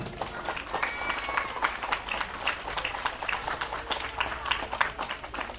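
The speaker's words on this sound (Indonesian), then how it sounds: "Tepuk tangan untuk para santri." An audience at a Maulid religious gathering applauds the santri, with a dense, uneven patter of many hands clapping that rises and dips over several seconds, moderately loud from a crowd in a hall.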